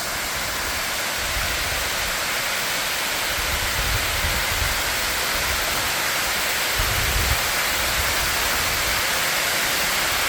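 A waterfall north of Nakusp, British Columbia, swollen with spring runoff and snowmelt, roars as a loud, steady, broadband rush of water with low rumbling surges and no speech.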